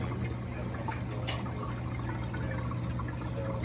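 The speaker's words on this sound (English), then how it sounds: "water kind of goes through a tunnel, kind of drips down here" Water trickles and splashes continuously through an aquarium sump, a steady close wash of dripping and pouring over a low pump hum.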